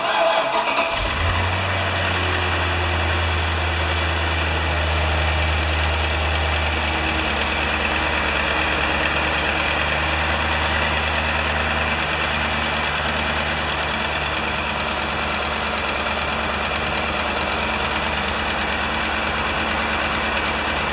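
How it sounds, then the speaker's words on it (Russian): A BMW V8 engine from a 7 Series E65 with about 211,000 km cranks and catches, then settles into a steady, smooth idle with a deep, even rumble heard up close. "Работа двигателя на холостых оборотах стабильна."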